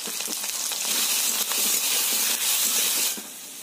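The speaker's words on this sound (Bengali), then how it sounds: "এবার লাল লাল করে এটাকে ভেজে নেব।" Taro sizzles and hisses steadily in hot oil, a loud, close frying crackle that drops off slightly toward the end.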